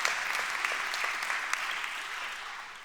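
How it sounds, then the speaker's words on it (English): Audience at a university doctoral hooding ceremony applauds, a broad, steady roar of many clapping hands, moderately loud and sustained, gradually easing toward the end. "let's clap for that"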